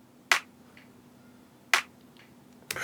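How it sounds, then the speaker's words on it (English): Two sharp, isolated clap hits from an 808 drum machine sample in the Logic Pro 808 Flex Kit, evenly spaced about a second and a half apart with a third starting at the end, crisp and dry over a faint hum. "It's just a clap on the 808"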